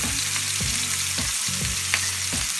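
Ribeye steaks searing in a hot pan, a steady loud sizzle and crackle filling the whole stretch, with repeated low tonal scraping strokes recurring every half second or so and no talking.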